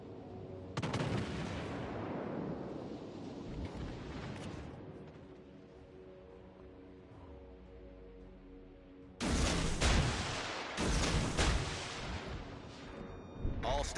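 Heavy naval gun salvos boom out in World of Warships Legends, a burst of broadband blasts near the start and a louder cluster of repeated shots toward the end, with rumbling engine and ambience between them.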